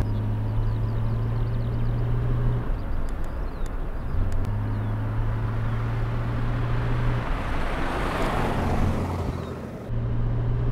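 A Jaguar E-Type's engine drones steadily on the road, its tone breaking off and resuming through a double-clutch gear change, with a short throttle blip swelling near the end.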